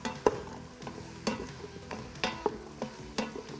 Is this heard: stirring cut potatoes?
yes